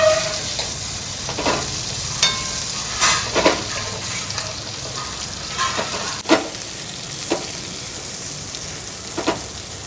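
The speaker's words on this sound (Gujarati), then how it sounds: "પાંચ જ મિનિટમાં મસ્ત ગાજર ક્રિસ્પી કૂક થઈ ગયા છે અને 5 મિનિટ 3 થી 5 મિનિટમાં જ મરચાં નાખી દેવાના" Carrots and medium-hot chillies stir-frying in a pan for a Gujarati carrot-chilli sambharo, a steady close sizzle broken by scattered scraping stir strokes, with no voices.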